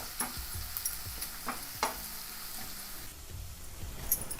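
Chopped onions sizzle and fry in a pan with a pinch of salt, cooking until reddish-brown, with occasional scrapes and stirs of a spoon against the pan at close range.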